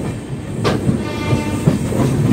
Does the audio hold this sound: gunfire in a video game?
no